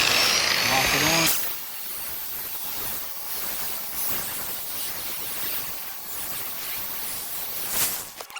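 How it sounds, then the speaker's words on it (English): A rotary polisher set to 1,000 RPM buffs a yellowed car headlight, giving a continuous rough whirring drone that stays fairly even and swells briefly near the end, after a louder opening burst. "I got to hold it and use the polisher at the same time"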